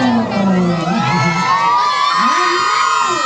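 Spectators at a local volleyball match in Gayo cheer and whoop loudly as a crowd, with children shouting among them, a continuous dense roar close at hand with no pauses.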